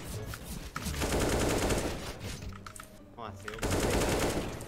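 Bursts of rapid automatic gunfire ring out in a competitive online shooter match, loud and continuous with a brief lull before the firing resumes.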